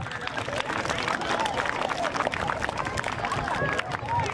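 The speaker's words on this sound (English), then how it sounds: "a round of applause for yourselves for paying attention" An outdoor crowd applauds at the close of a fire department live burn demonstration at a middle school, steady dense clapping with scattered voices and chatter running throughout.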